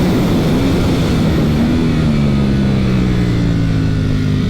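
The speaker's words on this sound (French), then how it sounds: "On peut rentrer des vitesses de façon absolument hallucinante" A 2022 Ducati Panigale V4 S runs hard with a loud, continuous engine drone, its pitch sliding and stepping as the quickshifter snaps through gears without a break in the sound.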